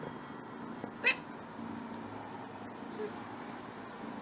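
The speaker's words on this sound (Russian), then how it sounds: "Мяукнет так." A kitten gives a single short meow, close and clear, over faint background traffic noise.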